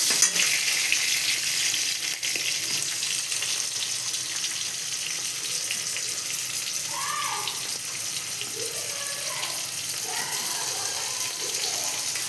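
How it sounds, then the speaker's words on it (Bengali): Potatoes, ridge gourd and chopped tomato fry in a pan with a continuous close sizzle and hiss, broken by soft stirring scrapes as the vegetables are turned. "টমেটোটা দেবো এবার দিয়ে ভালো করে নাড়াচাড়া করে নেব"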